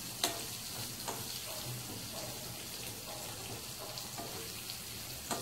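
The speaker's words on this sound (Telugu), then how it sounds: "దీంట్లో పోపులో కొంచెం ఆనియన్స్ వేసాను," Onions frying in tempering oil with asafoetida and cumin for an amaranth and raw mango dal, a soft continuous sizzle with occasional stirring clicks close by.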